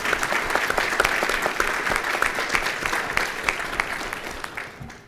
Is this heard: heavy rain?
no